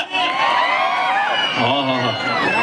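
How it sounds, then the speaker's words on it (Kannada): Crowd at a North Karnataka folk music show cheers and whoops loudly, a dense wash of shouting voices filling the whole short moment, with no distinct applause standing out. "ಒಂದ್ಸರಿ ಜೋರ ಚಪ್ಪಾಳೆ"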